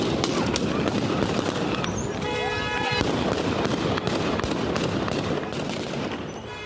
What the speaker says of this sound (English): Taliban soldiers who fired their rifles into the air to